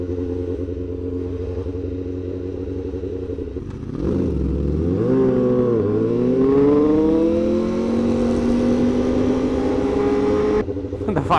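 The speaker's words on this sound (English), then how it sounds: "I'm keeping the fireblade in first gear because this thing is loud" A Honda Fireblade superbike idles with a steady, deep burble, then its engine rises and swells in first gear as it pulls away on a busy beach road, holding a loud, close drone before cutting off abruptly.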